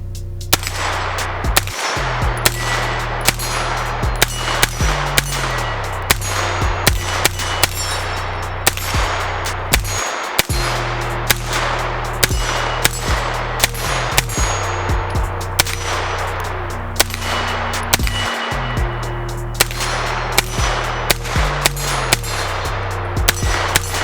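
A Battlearms Xiphos 9P pistol fed from ETS magazines fires shot after shot in quick, regular strings, each crack carrying a sharp metallic clang. Brief pauses break up the strings across roughly twenty-four seconds, with no talking.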